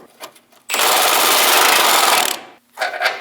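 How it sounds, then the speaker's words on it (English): An 18mm socket on a power tool spins out a front lower control arm bolt on a Chevrolet Express, one loud sustained whirring burst of about two seconds, close up, with softer clicks before and after. "Using a 24mm wrench to hold the nut, we'll use an 18mm socket to remove the bolt."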